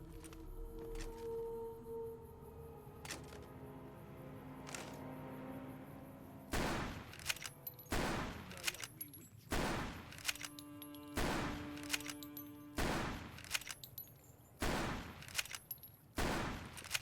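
Gunfire in Fallout: Tale of Two Wastelands, a Wabbajack modpack, opening with a few scattered shots and building into a dense volley of loud, rapid bursts that crack and echo in close succession.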